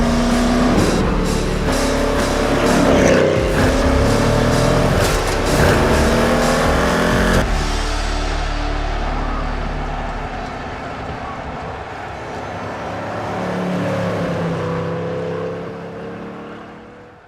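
Mercedes 300 SEL with a 6.8-litre V8 driving past, its deep engine roar loud and steady before easing into a fading, lower drone as the car moves away.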